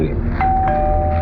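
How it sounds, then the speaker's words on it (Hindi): A doorbell rings once with a steady sustained electronic tone over a loud, busy background. "डोरबेल बजी"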